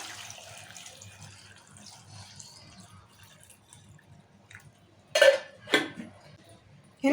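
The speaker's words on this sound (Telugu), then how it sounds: "ఇక వాటర్ పోస్తాను ఇలా" Water poured from a vessel over cut, washed cauliflower in a pot, with faint trickling at first and then two short splashing bursts near the end in a quiet kitchen.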